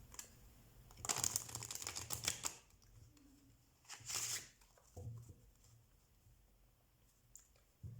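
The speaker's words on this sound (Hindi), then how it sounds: "सबसे पहले हम आधे पार्ट को शफल करते हैं" A deck of tarot cards is shuffled by hand in a few quick riffling bursts, close and crisp with short pauses between them and soft handling sounds, with no one speaking.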